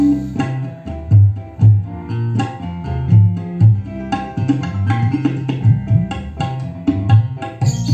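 Kick drum and kendang pattern played loud through a mixer with equalizer, dense thumping low beats with bright percussive hits repeating steadily across the whole stretch.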